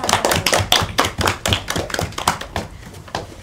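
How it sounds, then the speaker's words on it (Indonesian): Classroom audience clapping hands during a microteaching lesson, a close, uneven burst of many separate claps with a distinct rhythm, fading slightly toward the end. "Ya, kita kasih tepuk tangan."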